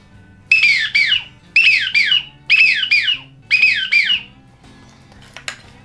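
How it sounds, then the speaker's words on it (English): Four paired whistles from a wigeon duck call, shrill and squeaky with falling pitch, blown in a steady rhythm, followed by faint clicks. "It's just a really squeaky sounding whistle"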